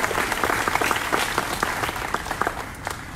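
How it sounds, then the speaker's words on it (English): An audience at a family and community engagement summit applauds for the Braves of the Alta Loma School District, a steady burst of clapping from many hands filling the room with no voices on top. "go ahead and clap for the Braves"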